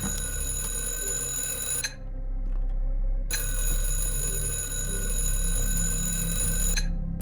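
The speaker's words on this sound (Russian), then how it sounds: "Я должна была найти куклу, чтобы зазвонил будильник." An alarm clock in a horror video game rings loudly in a shrill, continuous electronic tone, cutting out briefly for about a second before resuming, over a low background hum.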